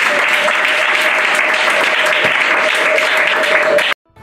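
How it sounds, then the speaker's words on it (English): A church congregation claps for Jesus, a loud steady burst of many hands applauding together that cuts off abruptly near the end, followed by brief quiet. "Let us clap for Jesus."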